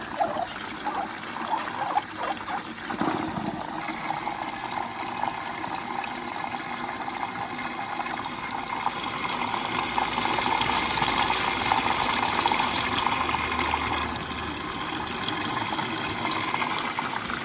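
Water rushes and trickles steadily into the drum of a working washing machine left out on the kerb, a continuous close hiss with pump hum, growing slightly fuller as it fills; no talking.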